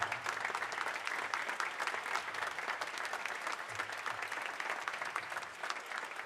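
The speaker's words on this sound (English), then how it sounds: "if you could keep that applause going for all the performers tonight that played for us" An audience at a high school steel band concert applauds the performers at the end of the night, a continuous, full wash of clapping from a large crowd that holds steady the whole time.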